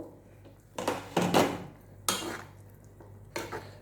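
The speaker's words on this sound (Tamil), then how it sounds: "இப்போ மூடியை திறந்து பார்ப்போம்." A metal lid comes off a pot of simmering sambar with eggplant and drumstick, giving several sharp clanks and scrapes of metal on metal in quick succession, close and clear with no talk.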